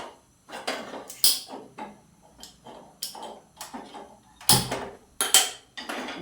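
A metal ladle clinks and scrapes on a tawa griddle pan in a home kitchen, in short separate strikes and scrapes with quiet gaps between them, close and moderately loud.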